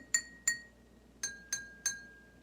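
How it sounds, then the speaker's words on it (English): Five bright ringing taps on water-filled glass cups struck with a stick, forming a homemade xylophone; two quick strikes, a pause, then three evenly spaced ones, each with a clear sustained tone, close and alone. "you can make your own xylophone at home using cups and a stick and some water"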